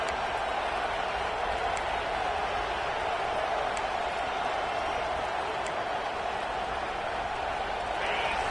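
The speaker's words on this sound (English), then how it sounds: "This crowd trying to make life miserable for this offense." Broad, steady roar of a football stadium crowd, loud and continuous throughout, with no clear individual voices standing out.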